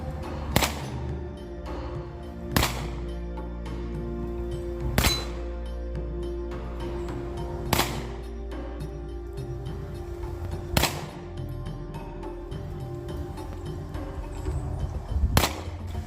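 Tokarev pistol shots at a shooting range, six sharp loud reports spaced a couple of seconds apart over a steady low background hum, with no talking.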